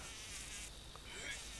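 Steady insect buzzing from a fly or cockroach in the video game Cockroach Simulator, a continuous drone that stays close and fairly loud for the whole moment with no talk over it.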